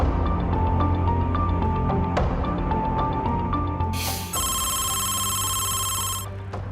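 A telephone rings in a repeated electronic trill, steady and clear over a continuous low hum, then a second brighter, higher ringtone cuts in for about two seconds near the end.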